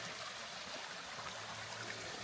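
Small brook trickling and flowing steadily on a mountain hiking trail in the morning, a soft continuous watery wash heard nearby with no talk.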